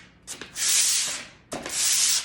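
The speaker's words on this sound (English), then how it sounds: "you're gonna want to refrain from sanding it kind of all over the place" Two long, steady strokes of sandpaper rasp across a wooden sign board, a breathy scratching hiss with a short pause between them, close and clear.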